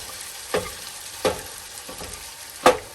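Venison frying in a small pan on a camp stove during truck bed camping, a steady soft sizzle broken by four sharp scraping stir strokes, the last one loudest, close by with no talk.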